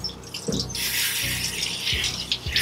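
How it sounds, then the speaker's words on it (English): Warm water running steadily down a pet cat's neck and back during a bath, a continuous broadband wash with a few soft knocks and splashes against the tub. "Let that water kind of run down the back of her neck."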